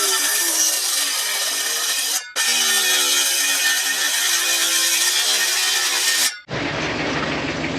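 A wooden fascia board is cut for porch framing on a barndominium build, making a steady, loud rasping saw that runs for several seconds, with one brief pause. A short, harsher burst of cutting follows at the end.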